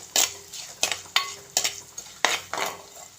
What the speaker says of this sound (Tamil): இதை நல்லா வதக்கிக்கிடுவோம்